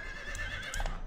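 A horse whinnies briefly in the video game Horse Farm, a high wavering neigh over a soft background bed, fairly faint and with no talk.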